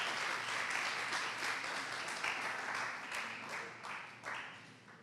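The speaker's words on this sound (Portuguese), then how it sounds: "aplaudam o teatro que vocês fizeram aí" Church audience applause, dense and sustained, fills the room for several seconds at steady loudness before thinning slightly toward the end, with no clear talk over it.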